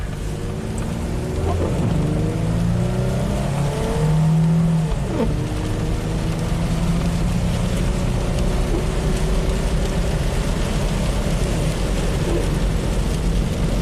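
A Mitsubishi Montero with four-wheel drive engaged accelerates at full throttle on an icy road, its steady engine drone rising in pitch through the gears beneath loud, broadband road and wind noise.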